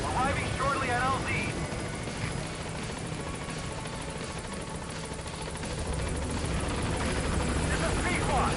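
The Pequod helicopter from Metal Gear Solid V approaches a landing zone, a steady whirring rotor drone that stays loud throughout while a radio voice speaks over it.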